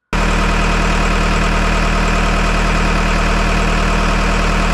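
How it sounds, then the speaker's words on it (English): A boat engine that has been splattering revs up suddenly and runs loud and steady, a close rhythmic throbbing drone with strong low vibration that holds unchanged to the end. "And then we ran the engine up so Chris could see firsthand where the splattering was coming from"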